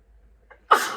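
A single sudden sneeze bursts out after a brief quiet intake of breath, close and fairly loud, with no talking around it.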